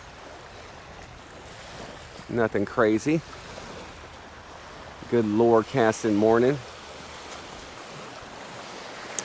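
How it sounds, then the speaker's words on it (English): Ocean surf washes steadily on a morning beach where someone is surf fishing, a constant wind-blown rush of waves in the background while someone speaks briefly twice. "Got some moving water."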